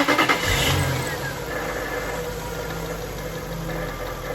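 A Jaguar car engine cranks with a few rapid chugs, catches, then settles into a steady idle close by.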